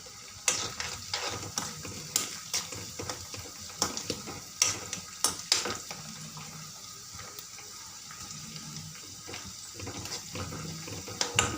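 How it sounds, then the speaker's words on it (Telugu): Onions, green chillies, coriander, mint and curry leaves frying in a pan, a soft sizzle broken by repeated clattering stirs and scrapes at an uneven rhythm. "ఉల్లిగడ్డలు పచ్చిమిరపకాయలు మగ్గినాక కొత్తిమీర, పుదీనా, కరివేపాకు"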